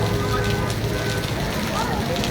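Heavy monsoon rain pours down in a broad, dense hiss of drops hitting surfaces, loud and continuous throughout, with a voice speaking over it.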